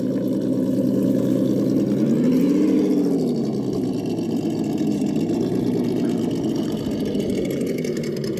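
Traxxas TRX4 RC crawler with 120mm Desert Lizard shocks driving on a high trail, a steady close electric motor and drivetrain whine that rises and dips in pitch as it climbs, continuous throughout with no talk.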